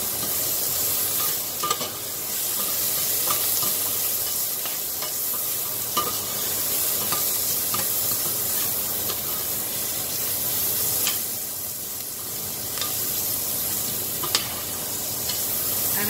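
Chopped onion frying in a pan for a masala bhindi curry, with a steady, moderately loud sizzle and occasional stirring scrapes and clicks, and no voices.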